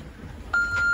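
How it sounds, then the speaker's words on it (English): An AIS alarm aboard a sailing boat at sea, a sharp, loud, steady electronic beep that starts partway through and holds over faint background rumble. "AIS, it's going off crazy. I turn the alarm off."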